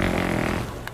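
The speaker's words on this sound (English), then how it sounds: "I'm a teacher and I have the fake fart" A fake fart noise from a handheld prank device, set off inside a store, sounds as one long, loud, wet, sputtering rip that runs nearly a full second and slowly fades at the end.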